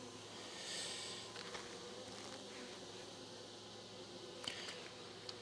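Honeybees in a weak queenless hive hum in a steady, close buzz, with a few brief louder passes as individual bees fly near.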